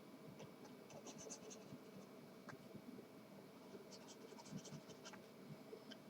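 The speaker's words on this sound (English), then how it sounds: "let me erase the coordinates from here" Coordinates are wiped off a board during a physics lesson, a faint, continuous dry scratching and rubbing with small squeaky strokes and no speech.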